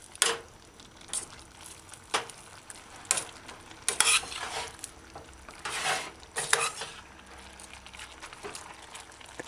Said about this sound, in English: Stirring in, keep the lid off,